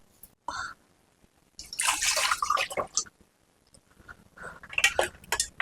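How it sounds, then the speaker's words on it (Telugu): Water splashing and trickling into a container in a few bursts, with clinks of ice and small kitchen sounds between quiet gaps. "నీళ్ళు అయితే పోసుకున్నాను"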